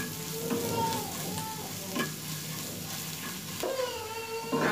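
Onions fry in a pan with a sprinkle of garam masala powder and are stirred, a continuous sizzle broken by occasional scrapes of the spatula, close and moderately loud, no speech.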